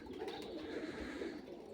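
Pigeons cooing faintly in a loft, soft low murmuring calls blending into a quiet, steady background over a brief moment.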